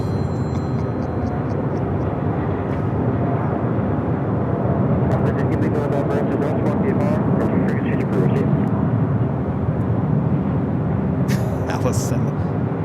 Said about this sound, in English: United Airlines Flight 198 heading to Shanghai, 787-9 Dreamliner. Now rolling down 25 right on the south side.